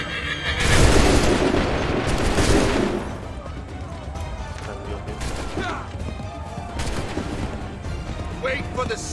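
Soldiers' gun volley in the Assassin's Creed III video game: one loud, close, crashing burst of massed gunfire early on, then a rough, rumbling decay and lingering battlefield noise, with voices faintly underneath.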